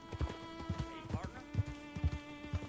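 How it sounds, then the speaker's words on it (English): Horses clip-clop on a trail in the Red Dead Redemption II video game, a steady rhythm of close hoof strikes with faint neighing and a tonal game hum running underneath. "Are those horses there?"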